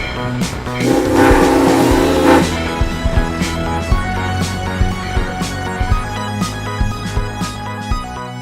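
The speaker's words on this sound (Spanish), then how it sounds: "Este es un tren a vapor." A loud steam train whistle sounds for about a second and a half over the rumbling, hissing chug of a steam locomotive running close by in Chehalis, Washington.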